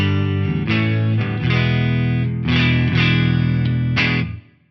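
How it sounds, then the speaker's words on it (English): A Stratocaster's neck pickup runs through a Synergy 2CP preamp module into a clean amp, playing sustained, ringing chords with several strummed attacks over about four seconds. The last chord fades out and nobody talks. "it sounds like this at the moment on the neck pickup of my Strat"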